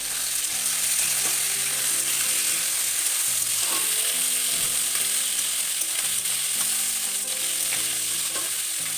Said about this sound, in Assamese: হালধি নিমখ ভাল কৰি ভাজি লৈছোঁ